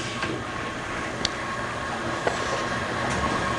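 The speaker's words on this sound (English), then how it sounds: "right now we are in our low RPM rinse. This is about 500 RPM and a 30-second rinse" A steady broadband whir from an 870-S spin rinse dryer running its low-RPM rinse at about 500 RPM, a continuous even hum with a few faint clicks, close and alone.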